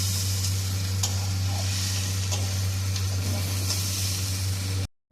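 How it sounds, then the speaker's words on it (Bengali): Jackfruit with spices being stir-fried in a pan, a steady close sizzle with a strong low hum underneath and occasional faint scrapes of stirring, no voices, cutting out abruptly near the end. "সব মশলার সাথে এবার এঁচোড়গুলোকে কষানো হচ্ছে ভালো করে।"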